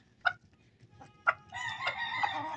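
Pet chickens: two short clucks, then a rooster lets out a long, fairly close crow that fills the rest of the moment, with no talking.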